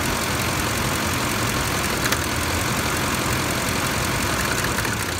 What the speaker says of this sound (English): we should hear a click and an idle change